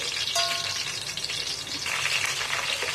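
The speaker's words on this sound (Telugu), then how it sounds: "ఆనియన్ ఇంకా పచ్చిమిర్చి వేస్తున్నాను." Onion and green chillies frying in hot oil for mutton curry, a steady close sizzle and crackle with brief stirring scrapes and no speech.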